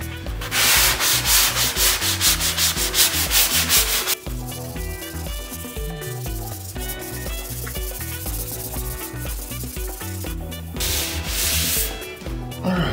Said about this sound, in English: So we're gonna go ahead and get this sanded